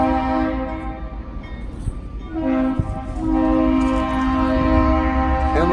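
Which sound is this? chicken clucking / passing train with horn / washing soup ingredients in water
passing train with horn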